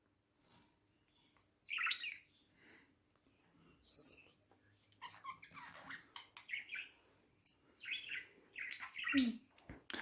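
Bright, scattered budgerigar chirps and squawks come in short bursts up close, with soft whispery human sounds in between.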